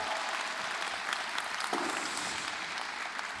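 A church audience at a Lenten lecture gives a short burst of applause for a band, a brief, even wash of clapping lasting a few seconds.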